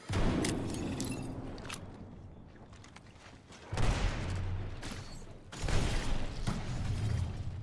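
Video game gunfire crackles in rapid bursts of shots with mechanical clatter, loud and close, coming in three separate volleys with brief lulls between.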